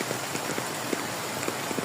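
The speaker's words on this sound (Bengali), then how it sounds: "আরে বৃষ্টিটা অনেক হইতেছে।" Heavy rain pours in a dense, steady hiss, with scattered drops pattering on a nearby surface and no voices over it.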